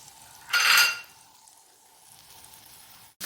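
Tomato drops into hot olive oil in a pan, giving one short, loud burst of sizzle that quickly settles to a faint, quiet crackle, close up with no talk.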